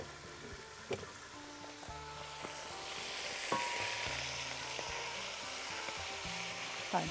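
Chicken strips cut into slices sizzle steadily in a hot pan, a dense, even frying hiss with a few soft clinks and stirring taps near the start.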